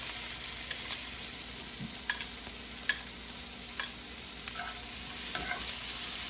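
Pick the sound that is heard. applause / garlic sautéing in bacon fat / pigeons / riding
garlic sautéing in bacon fat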